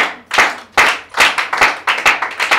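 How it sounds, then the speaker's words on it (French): A church congregation claps in unison, about a dozen sharp, loud hand claps in a brisk, slightly uneven rhythm, with no voices over them. "Est-ce que tu peux encore acclamer pour Dieu?"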